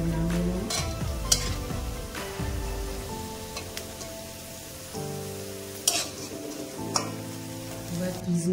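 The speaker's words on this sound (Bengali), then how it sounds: "এবার কিশমিশটা ভেজে নিচ্ছি।" Raisins fry in a pan for a biscuit halwa, giving a continuous close sizzle broken by scraping and stirring knocks from a utensil. Faint tonal sounds hang in the background.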